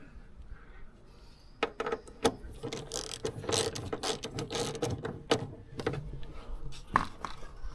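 Ratchet wrench loosening a 12mm bolt while installing crash bars on a 2023 Kawasaki KLR650, sharp clicking bursts of pawl ratcheting in irregular runs, close and distinct.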